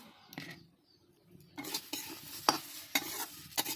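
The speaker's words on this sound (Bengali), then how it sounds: "এরপর আমি কাজু বাদাম, কিশমিশ ও কারিয়া পাতাটা দিয়ে আবারও সুন্দরভাবে ভেজে নেব।" Cashews, raisins and sun-dried curry leaves fry in ghee while a utensil stirs them. After a quiet opening, a soft sizzle runs under repeated scraping strokes and light clinks against the pan, with no talking.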